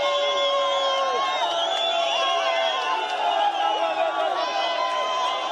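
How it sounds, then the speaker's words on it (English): Crowd cheering and whooping in the streets of Harare, heard from a balcony above: a dense, continuous roar of many shouting voices with excited high calls, steady and moderately distant. "They are cheering now as the news comes through to them on their mobile phones."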